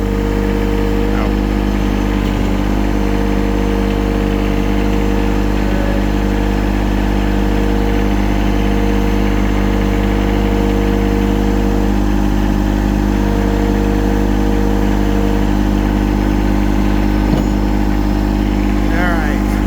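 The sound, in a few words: tractor engine running while hoisting mower onto trailer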